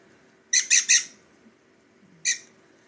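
Baby sun conure parrots squawk in sharp, shrill calls, a quick burst of three close together, then a single squawk after a pause, loud and close in a quiet room.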